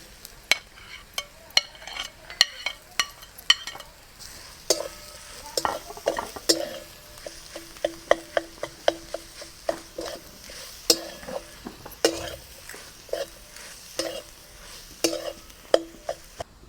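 A spoon scrapes and clacks steadily against the pan as mashed potato is stirred into fried spices for a semolina breakfast dish, with a soft sizzle underneath the rhythmic strokes.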